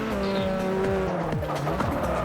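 Racing game footage of GT race cars in the FIA GT Championship: loud, steady engine roar with shifting pitch as gears change, overlaid by repeated tyre squeals through the whole stretch, with no talking.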